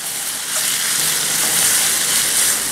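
Chopped tomatoes sizzling in a kadai while being stirred for kadai paneer masala, a steady close-up hissing fry with soft scraping movement throughout.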